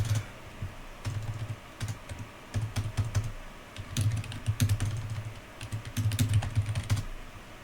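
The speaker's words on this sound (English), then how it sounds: "I'm going to type in that code that adds a button." Computer keyboard typing of game code, with quick clustered keystrokes in uneven bursts and short pauses, close and fairly quiet, with no talking.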